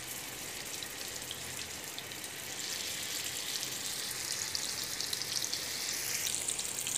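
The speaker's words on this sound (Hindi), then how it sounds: "यहाँ हमने ग्रिल पैन में ऑयल डाल के इसे गर्म कर लिया है। अब इसमें हम हमारे सीख कबाब रखेंगे।" Seekh kebabs go into hot oil on a grill pan, and a soft, even frying hiss builds and grows louder and denser partway through.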